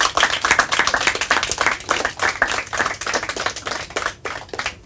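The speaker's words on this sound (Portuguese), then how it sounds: "Mas palmas para eles." A crowd at a Portuguese finals results announcement claps steadily, dense overlapping handclaps forming a lively round of applause that carries on throughout without voices.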